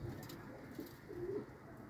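Homing pigeons coo softly inside a loft, a few low, rounded calls rising over quiet background hum.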